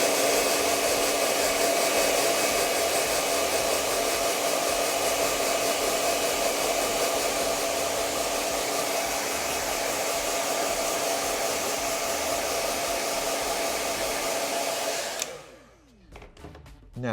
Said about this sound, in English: go ahead and get your blow dryer and start to blow against the cuticle